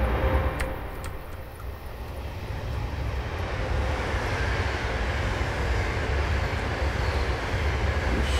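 Steady rumble of a Class 390 electric train running at 80 miles an hour in Train Simulator 2014, a continuous roar with rail hum that swells slightly and holds.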